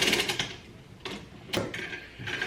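A 2-ton AV Steel scissor jack being ratcheted up, giving a few sharp, evenly spaced mechanical clicks and metallic rasps close by, with short pauses between strokes and no talking.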